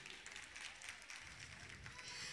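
An audience at a children's school arts festival claps, a faint, distant, continuous patter of many hands.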